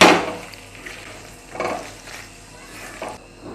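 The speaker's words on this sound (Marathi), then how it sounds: "मिक्स करून घ्यायचं याला आपण आणि हलवून घ्यायचं आहे आपल्याला याला" Paneer cubes are stirred into a spiced masala in a pan for a paneer roll filling. A spoon scrapes and clatters in three separate strokes spaced about a second and a half apart, with a faint sizzle between them.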